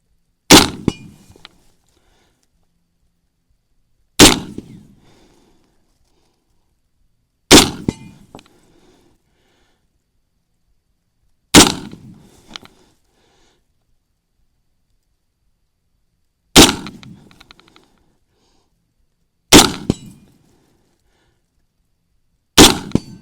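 An M1 Garand rifle is fired from the prone position outdoors in grass: seven loud, sharp single shots spaced a few seconds apart, each with a short echoing tail and silence between.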